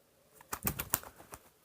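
Larry, a pet bird, gives a few soft, faint coos and chirps with a light flutter, clustered in a short burst in a quiet room.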